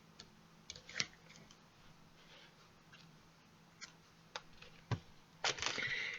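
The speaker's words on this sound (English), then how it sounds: "I'm just going to cut off a piece of this." String is snipped with scissors in a quiet room: a few soft, crisp clicks and snips spread over several seconds, ending in a louder cluster of cutting sounds.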